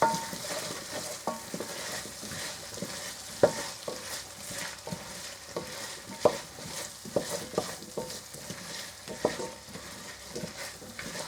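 Christmas turkey stuffing sizzles as it fries in a pan, with repeated scraping stirs and occasional clinks of a utensil against the pan, steady and close, with no talking.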